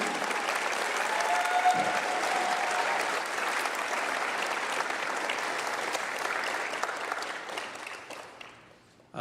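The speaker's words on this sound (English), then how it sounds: "Let's have a round of applause." Sustained applause from an audience at a Rotary scholarship night fills the room steadily for several seconds, then tapers off as it fades.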